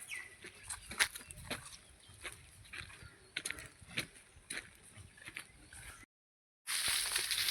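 Free-range native chickens cluck and chatter in an outdoor farmyard, with scattered bird calls and background rustling; the sound cuts out briefly near the end, then returns as steady noise.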